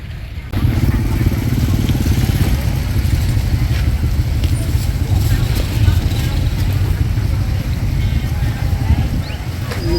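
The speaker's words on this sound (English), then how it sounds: "It's so big that people are riding their scooters around it." Scooters and motorcycles ride around a huge roadside market, their engines a steady, loud buzzing drone that sets in after a brief quiet start and continues throughout, mixed with busy street noise.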